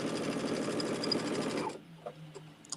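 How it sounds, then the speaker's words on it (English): A sewing machine runs steadily for nearly two seconds, stitching fabric pieces together for an Alice's Wonderland sew-along project, then stops abruptly, leaving a quiet room with a few small clicks and handling noises. "So go ahead and just sew your pieces together here."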